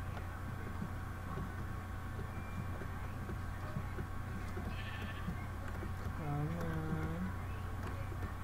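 Sheep bleat in a survival video game, a wavering cry near the six-second mark over a steady droning game background while a player talks throughout.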